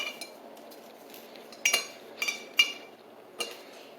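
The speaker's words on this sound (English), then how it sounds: "put it in your tea ball" A metal tea ball rattles and clinks as it is filled with dried herbs, with a few sharp metallic taps in quick succession over a faint background hiss.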